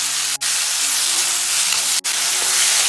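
Onion, tomato and chilli sautéing in a pan with a little salt for chutney: steady close sizzling and frying hiss, broken by two brief stirring pauses.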